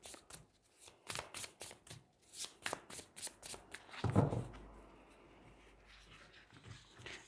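Tarot cards riffled and shuffled by hand, a quick run of crisp flutters for about four seconds, then a heavier thump and soft handling as cards are set down and drawn, close and alone.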